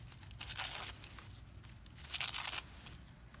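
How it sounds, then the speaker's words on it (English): Paper tearing in two distinct bursts, close and crisp, while scraps are shredded for a stained glass ornament craft, with a quiet pause between the rips and no talking. "shredding this paper"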